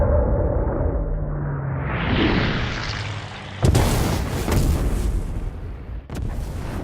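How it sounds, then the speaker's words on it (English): Missile strike on a plane in the Ace Combat 7 video game: a rolling roar of engine and air noise builds, then a sharp, loud explosive blast at about three and a half seconds, followed by a second burst near the end. "Mother Goose 1 has been shot down."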